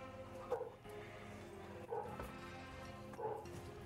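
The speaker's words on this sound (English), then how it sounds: "my downstairs neighbor's dog is going nuts. I can hear it." A downstairs neighbor's dog barks from another floor, three muffled, evenly spaced barks heard faintly through the building over a low background hum.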